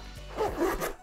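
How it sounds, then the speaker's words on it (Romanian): A zipper on a compact tech pouch made of recycled material is pulled in a few quick rasping strokes, close and clear with no talk. "are un fermoar de foarte bună calitate și care sună"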